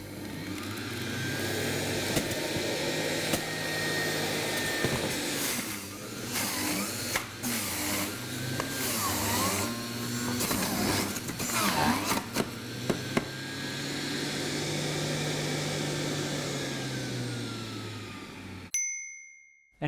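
A Sage juicer motor grinds through fruit and vegetables with a steady loud whirring, its pitch dipping and recovering as the load changes, broken by brief clatters before it cuts off near the end.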